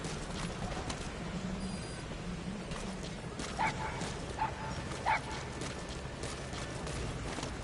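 A puppy in the video game Metal Gear Solid V: The Phantom Pain gives a few short, faint yips and whimpers over a busy, steady game background.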